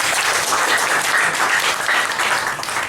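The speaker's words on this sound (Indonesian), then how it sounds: "Aplaus untuk Ibu dan aplaus untuk Pak Hardi." Dense audience applause at a cultural lecture, many hands clapping steadily and loudly for the whole stretch, close and continuous with no voices over it.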